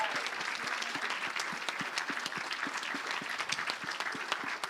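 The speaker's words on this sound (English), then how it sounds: "Give yourself a round of applause." Audience at a startup final pitch event gives a round of applause, dense continuous clapping with distinct sharp claps throughout, fairly close and steady for several seconds.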